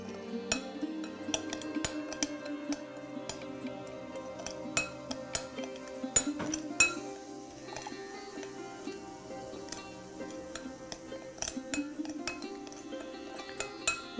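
A spoon clinks repeatedly against a bowl while vinegar and spices are mixed into a fine paste for Kerala-style fish fry, irregular sharp metallic taps close by at a moderate level, without any talking.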